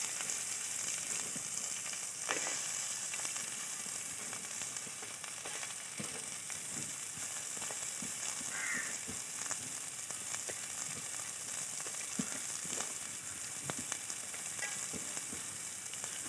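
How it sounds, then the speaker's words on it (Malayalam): Chopped onions frying in coconut oil for a green pepper chicken, a steady close sizzle that carries on throughout, with faint stirring clicks now and then and no voices. "അതിനുശേഷം നേരത്തെ നമ്മൾ കട്ട് ചെയ്ത് വെച്ച ഉള്ളി ഇട്ട് കൊടുക്കുക"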